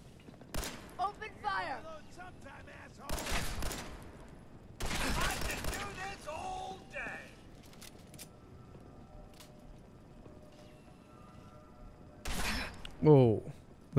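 Enemies fire guns in the video game Fallout 4, several sharp bursts of shots at irregular intervals with quiet pauses between, the loudest burst arriving near the end, with some talk in between.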